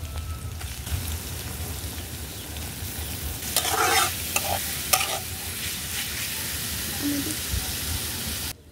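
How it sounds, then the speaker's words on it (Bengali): Chopped garlic and onion frying together in oil in a village kitchen, a continuous close sizzle with stirring strokes and a few louder clatters of the spatula midway. "রসুন আর পেঁয়াজ কিন্তু আমি একসাথে ভেজে নিতেছি"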